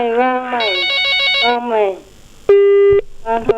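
A telephone rings while a call is placed again, short repeated electronic tones sounding close and clear, with a voice speaking over the start and brief gaps between the tones.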